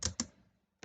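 A few keystrokes on a computer keyboard while HTML and CSS code is entered: two quick clicks close together, a pause, then one more, crisp and near.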